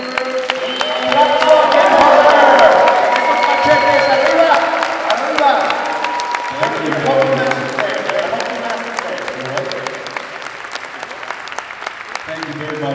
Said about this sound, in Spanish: hay que despedir con un gran aplauso